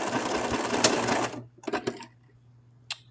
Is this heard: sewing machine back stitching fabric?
yes